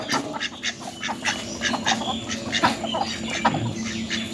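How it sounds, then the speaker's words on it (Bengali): Domestic ducks quacking repeatedly in a mixed, overlapping chorus, fairly close and steady throughout, with a few bird-like calls and no clear talk. "এই যে আমার হাঁস"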